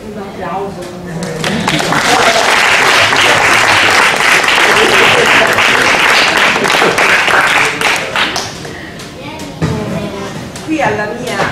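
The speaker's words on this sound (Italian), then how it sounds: "E poi qui un applauso." An audience claps in a theatre at an evening book presentation. Loud, dense applause swells after a moment, holds steady, then tapers, with voices speaking over the start and the end.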